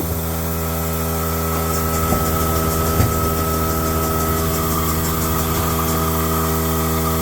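A 2008 Yamaha Drive G29 gas golf cart engine runs roughly with a suspected carburetor fault, a steady loud mid-pitched drone with a few faint knocks over about seven seconds.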